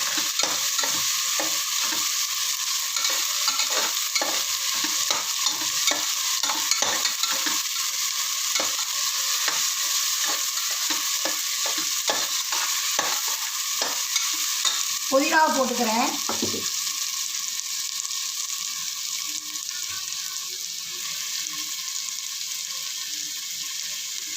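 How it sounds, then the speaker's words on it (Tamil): Steady frying sizzle as vegetables are sautéed for vegetable biryani, with repeated stirring and scraping in a pan, a brief rising squeak near the end, no talking. "ஒரு ரெண்டு நிமிஷம் அதை வதக்கிடுவோம்"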